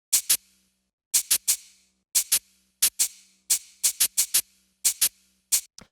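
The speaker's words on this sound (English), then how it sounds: "The next sound we have here are these shakers and this drum rack" Crisp shakers from a drum rack play a loose, swinging pattern of bright, hissy bursts grouped in twos and threes with short gaps between, dry and close with a faint low tone under some hits.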